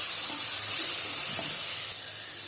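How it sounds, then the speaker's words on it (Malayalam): Ginger-garlic paste and green chillies are sautéed in a pan, with a steady, close sizzle and hiss and a few soft stirring scrapes. "ഇഞ്ചിയുടെയും വെളുത്തുള്ളിയുടെയും പച്ചമണം പോകുന്നത് വരെ ഇതൊന്ന് വഴറ്റി കൊടുക്കുക."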